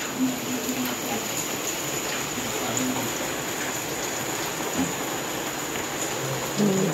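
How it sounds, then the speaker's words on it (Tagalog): Steady heavy rain hisses broadband and unbroken for the full stretch, with faint low thumps and brief hums beneath, at a home where floodwater came inside and rain sprays against a window. "Nabutan po kami ng ulan dito."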